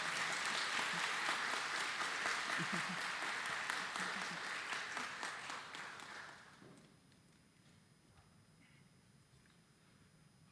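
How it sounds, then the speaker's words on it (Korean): A church congregation at a Korean mission assembly's opening worship in a large sanctuary applauds steadily, the clapping fading out after about six seconds into quiet room tone. "여러분들 한번 격려의 박수 주시면 감사하겠습니다."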